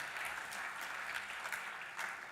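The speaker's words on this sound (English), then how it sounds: "Oh, are you applauding?" An audience at a live expert panel event applauds with a steady, fairly soft patter of many hands, heard from a distance and sustained the whole time.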